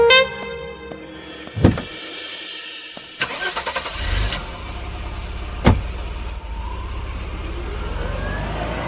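A car engine cranks and catches with a sharp burst, then settles into a low idle rumble. Scattered clunks and a door-like thud come before it, with nobody talking.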